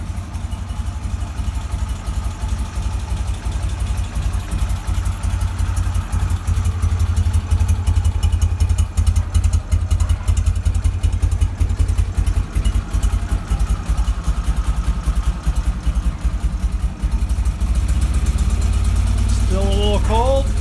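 BMW R69S motorcycle engine idling while stone cold, a steady close low thrum with rapid ticking and clatter that holds for about twenty seconds, slightly uneven as it warms.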